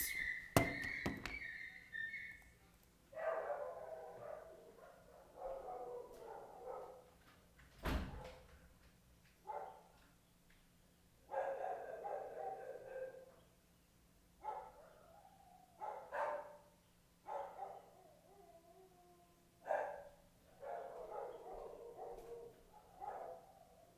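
A dog inside a house barks in repeated separate bursts spread over about twenty seconds, muffled and somewhat distant, with a door-like thump early on and a quiet indoor background.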